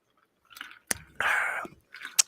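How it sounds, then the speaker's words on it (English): A quiet close-up slurp of a drink between soft mouth clicks and a swallow, with faint breathy sounds around it. "I take a sip of this drink"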